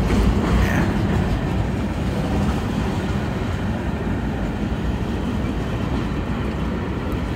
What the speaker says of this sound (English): We're at Guadalupe when the train stopped.